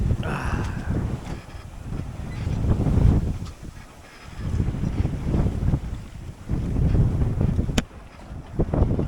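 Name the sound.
wind on a sailboat at sea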